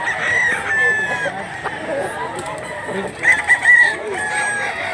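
A young stag rooster with black legs crows and clucks close by among other farm chickens, with people talking over the calls.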